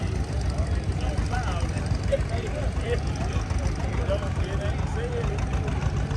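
A 1948 John Deere M tractor engine runs steadily at a tractor show and plow day, a continuous low rumble with chatter and voices from the surrounding crowd.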